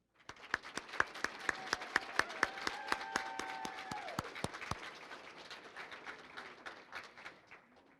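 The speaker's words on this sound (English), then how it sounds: "Please join me in a round of applause." An audience applauds at a school graduation ceremony for an early college high school, sharp individual claps standing out over a dense, sustained clapping crowd that thins toward the end.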